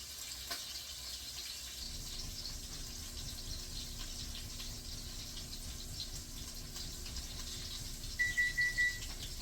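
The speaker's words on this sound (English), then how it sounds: "that's our timer for our noodles" A kitchen timer set for boiling noodles goes off near the end, a short run of four or five rapid beeps over a steady background hiss of running water.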